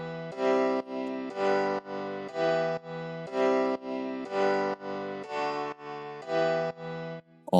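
Piano chords from an electronic dance track, played as even stabs in a steady rhythm, each sustained and cut off, clean and up front with no voices.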